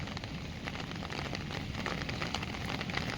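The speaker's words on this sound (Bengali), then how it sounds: "এই বৃষ্টির মধ্যে কোথায় যাচ্ছে গো ধান রোপণ করতে?" Steady rain pours over flooded rice paddy fields in a village, a dense, even hiss of water with faint pattering, fairly soft and constant.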